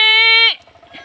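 A goat penned at a plantation site gives one loud, sustained bleat close by for about half a second, then softer scattered sounds follow.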